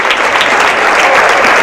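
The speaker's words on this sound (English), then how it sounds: "crowd giving her a nice round of applause" Brief burst of loud, close crowd applause in a gym during a girls' high school basketball sub-state game, continuous clapping with no break across the short stretch.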